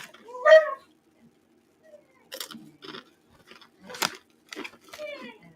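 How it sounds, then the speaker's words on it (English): Takis rolled tortilla chips crunch in short bursts of chewing near the microphone, with brief crinkles from the snack bag separated by quiet gaps. "I'm eating these Takis"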